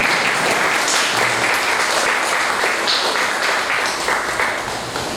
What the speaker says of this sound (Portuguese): mas você foi super aplaudido aqui